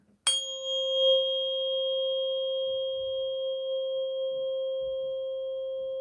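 A tuning fork tuned to 528 hertz is struck once with a sharp attack, then rings as a steady, pure sustained tone with faint rustling in the background.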